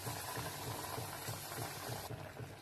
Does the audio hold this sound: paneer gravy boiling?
yes